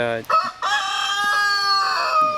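A rooster crows loudly and close by, one long drawn-out cock-a-doodle-doo after a couple of short clucks.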